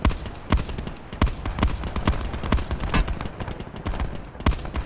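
Dense automatic gunfire in Call of Duty Black Ops 4 Blackout, a rapid run of close, loud shots with sharp cracks in irregular bursts throughout, without a pause.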